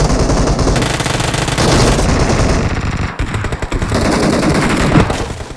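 Loud, dense gunfire in the BGMI mobile battle game, with rapid automatic bursts and heavy shotgun-like blasts that crowd together with almost no pause. One short gap near the middle breaks the constant barrage.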